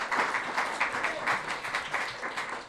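Audience applause at a town hall meeting, a brief dense patter of many hands clapping in uneven pulses throughout, fairly close and steady.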